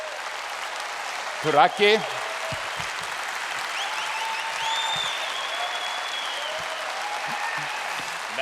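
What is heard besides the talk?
audience applause at a convention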